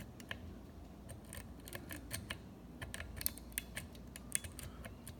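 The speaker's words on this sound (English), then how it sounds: "I actually just picked it with a pick," A lock is worked with a single pick, giving a run of faint, rapid metallic ticks and small clicks in irregular bursts, close and quiet with no voices.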